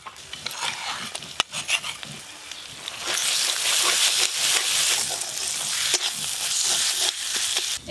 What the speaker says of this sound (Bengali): পেঁয়াজ আদা রসুন সব কিছু ভালো করে ভাজা ভাজা হয়ে গেছে